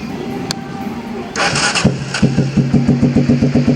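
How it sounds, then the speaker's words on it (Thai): A Honda Shadow 400 motorcycle starts up and idles with a rough, pulsing exhaust thump, close by, after a few quiet seconds of faint background noise. "เดี๋ยวไปฟังเสียงท่อกันหน่อย"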